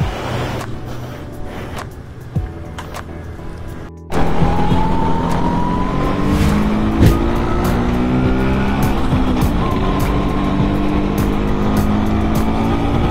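A Vespa VBB France scooter being ridden on the road, its engine droning loud and close with wind rush, the pitch rising steadily as it pulls away and gathers speed.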